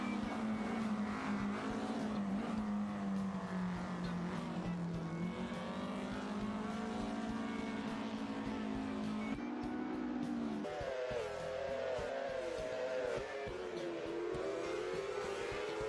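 A Porsche 718 RS 60 Spyder race car engine wails through shifting revs for several seconds at Oulton Park, rising and dropping in pitch, with squealing tires and a gear change near the end.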